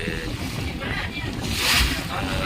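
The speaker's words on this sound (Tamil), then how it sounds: "இந்த ஃபாஸ்ட்டாக வர போட் வந்து பக்கத்துலேயே வந்து" A fast speedboat passes close by on the Alappuzha backwaters in Kerala, its engine and rushing water swelling to a peak and easing, mixed with wind buffeting the microphone.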